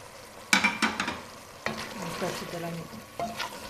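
A spoon stirs mutton with spices in a hot pan, sizzling steadily, with scraping strokes and sharp knocks at the start, near the middle and again near the end.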